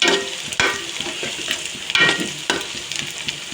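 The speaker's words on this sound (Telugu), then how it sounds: "వేసి బాగా దోరగా వచ్చేదాకా వేయించుకుని తర్వాత మెంతులు 4 వేసుకోవాలి." Chopped onions and green chillies sizzle and fry in hot oil for a korameenu fish curry, a steady close crackle broken by a few louder stirring scrapes.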